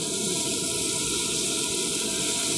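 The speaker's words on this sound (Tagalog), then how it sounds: "tingnan nyo yung tubig dito, napakadelikado, napaka-angas yan" Water rushing beside a slippery mountain trail, a loud continuous hissing gush that fills the whole stretch with no pauses, close and steady.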